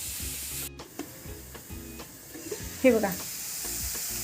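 Grated carrots are stir-fried in ghee for carrot halwa, a soft continuous sizzle with rhythmic spatula scrapes and a louder clatter near the end, while a voice speaks briefly.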